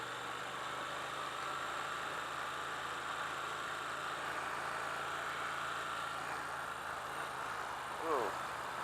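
A 2017 Triumph Thruxton R engine drones steadily while being ridden, a constant mid-pitched hum with wind rush and a brief blip near the end, heard from the rider's position.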